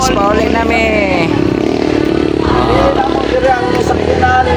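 A motorcycle engine droning loud and close throughout, its steady rumble mixed with rushing wind and clatter, while people talk over it.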